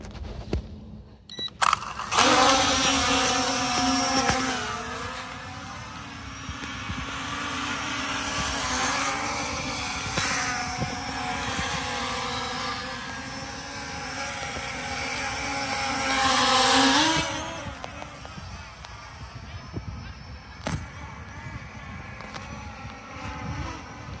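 An M3 Max camera drone takes off, its rotors rising into a loud, steady high buzz close by that swells and wavers, then eases off toward the end.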